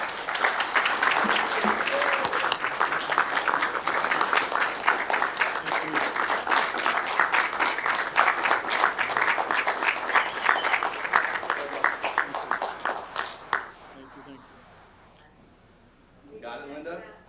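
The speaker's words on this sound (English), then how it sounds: "A big round of applause, please." An audience at a Garden Ridge city council meeting applauds in a dense, sustained round of clapping. It holds for about thirteen seconds, thins into a few scattered claps and fades, and brief talk follows.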